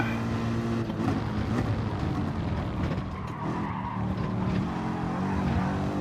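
Tires squeal and skid as a Gr3 race car slides into oversteer in an online racing video game, a sustained screech over steady engine roar throughout.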